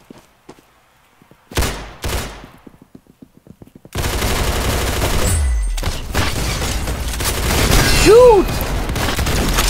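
Game gunfire in Roblox Arsenal: a few sharp isolated shots, then from about four seconds a dense, loud, continuous burst of rapid fire with a brief rising whistle near the end, no talk.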